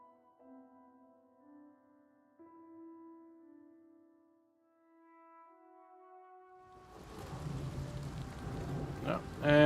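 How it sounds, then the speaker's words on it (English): Rain in the video game Elder Scrolls IV Oblivion starts after a stretch of sustained musical tones, rising into a steady hiss of falling rain that grows louder toward the end. "And now it's raining."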